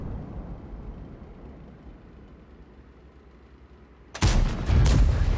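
A tank shell ricochets off armour in World of Tanks on the El Halluf map: after several seconds of low engine rumble, a sudden loud, sharp metallic crack bursts in near the end, followed closely by a second heavy burst.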